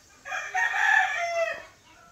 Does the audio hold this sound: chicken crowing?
yes